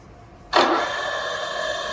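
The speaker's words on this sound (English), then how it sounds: "Working of spindle at its maximum speed. That is 1800 rotations per minute." An OKK MH-2V vertical milling machine from Japan spins its spindle up to its maximum 1800 RPM, starting abruptly and settling into a steady, loud mechanical whine with a sustained tonal hum. No one speaks.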